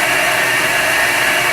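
An Eldorado M75-1041 single spindle gun drill cuts steadily, giving a continuous loud hiss and whine of the spinning spindle that holds an even level with no breaks.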